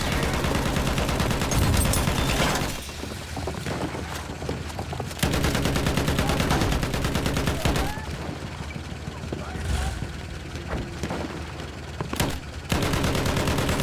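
Battlefield 1 gameplay gunfire: loud, dense bursts of rapid shots and automatic fire filling the whole stretch, with brief lulls between volleys and explosive bangs.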